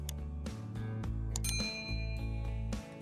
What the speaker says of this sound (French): cliquer sur la cloche de notification pour ne pas manquer nos prochaines vidéos